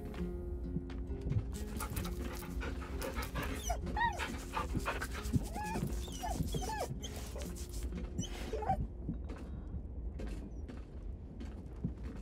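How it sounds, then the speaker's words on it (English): A dog in the Baldur's Gate 3 video game pants and whimpers close by, with rapid breathy panting and soft vocal squeaks over a steady game ambience, alongside faint movement sounds. "Yeah, pet the dog."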